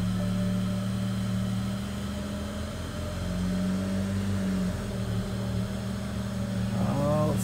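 A BMW E90 335i with its N55 engine, fresh from an ignition coil install, runs with a steady, close engine drone throughout, with a brief rising flutter near the end.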